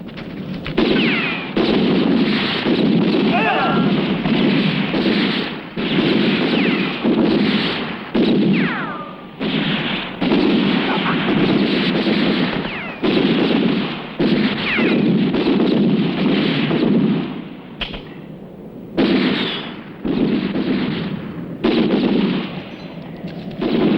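A shootout in a western film: loud, repeated gunshots and volleys fire almost continuously for over twenty seconds, broken only by short pauses.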